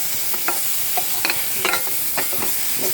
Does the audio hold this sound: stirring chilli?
yes